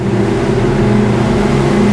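Twin engines of a 2022 Regal 38 SAV day boat, 900 horsepower, drone loudly and steadily as they rev toward 2000 to 3000 rpm, a close, continuous low rumble with no talk.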